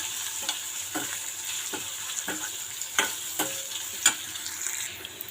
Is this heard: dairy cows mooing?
no